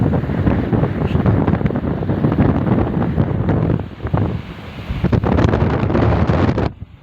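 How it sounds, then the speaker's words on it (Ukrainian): Strong wind drives sand along a coastal road by the sea in Peru during a sandstorm, with loud, gusty roaring and buffeting on the microphone that dips briefly midway before surging again. "І мете пісок постійно."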